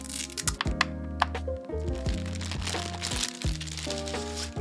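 Packaging of a Corsair K70 RGB Pro OPX keyboard crinkles and rustles as the box is opened, with close crackling bursts, rubbing and light thumps continuing steadily without speech.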